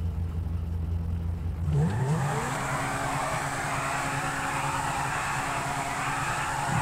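A Lamborghini in GTA V idles with a low rumble, then its engine revs up sharply and holds a loud, rising, whirring drone as the car accelerates away.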